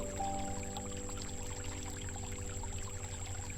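Tap water running from a washbasin faucet, a steady faint pouring stream over a low background hum.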